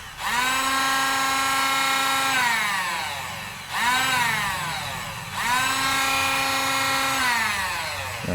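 A ZPER 16.8V cordless mini angle grinder runs three times, each burst a loud, high-pitched motor whine that spins up quickly, holds steady, then sags and winds down before the next run.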